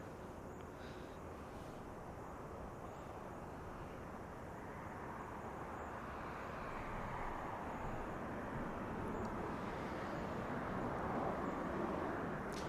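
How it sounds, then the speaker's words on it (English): A United Airbus A321neo airliner arriving at Los Angeles, heard as a steady broadband roar that swells gradually over the second half, with no talk. "United A321. A321 Neo coming in from San Francisco."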